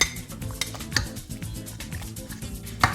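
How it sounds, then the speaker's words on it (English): Cooked beans are mashed in a crock pot with a utensil, giving steady squishing and scraping with occasional sharp clinks against the pot, close and moderately loud. "So I'm going to turn the heat off of my crock pot here and just mash these up."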